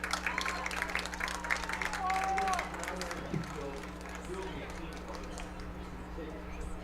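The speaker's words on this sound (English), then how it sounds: "It's okay, you can clap." A crowd at a high school varsity football senior night claps over steady background hum and a voice on the public address, the applause fairly soft and diffuse.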